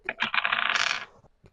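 Dice clatter onto a table in a quick rattling burst of clicks that settles within about a second, close and distinct, followed by a couple of faint taps.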